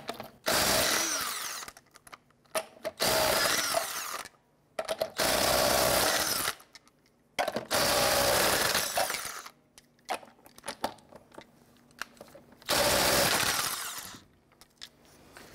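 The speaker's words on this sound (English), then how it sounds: "Using your 19mm socket, loosen and remove the lug nuts." Impact wrench or power tool with a 19mm socket loosening and removing lug nuts on a 1999-2004 Jeep Grand Cherokee front wheel, heard as five loud whirring bursts, each a second or two long, separated by short quiet gaps.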